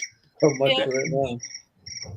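A phone ringtone of chirping crickets sounds in clean, repeated trilling bursts, loud and close, while a person speaks over part of it.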